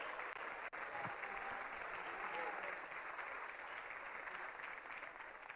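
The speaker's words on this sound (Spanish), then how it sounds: "Dele aplauso que él está aquí." A church congregation claps during a sermon, a steady, somewhat distant wash of many hands, fairly even throughout, with faint voices mixed in.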